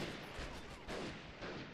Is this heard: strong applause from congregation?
no